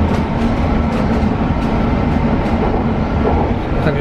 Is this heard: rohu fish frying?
no